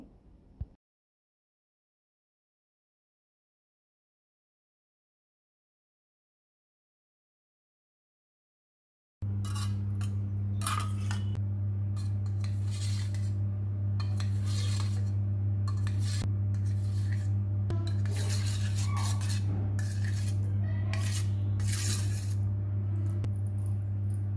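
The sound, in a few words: knife cutting jelly into pieces on a plate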